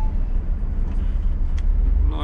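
A truck rolls along the Novoryazanskoe highway after a day of repairs, giving a steady, close, low engine and road rumble that holds at an even loudness throughout, with a few brief higher tones near the end.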